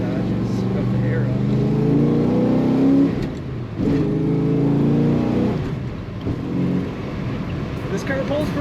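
A 1969 Dodge Dart Swinger two-door hardtop pulls in second gear around a roundabout, its engine a loud close drone that rises and dips with the throttle.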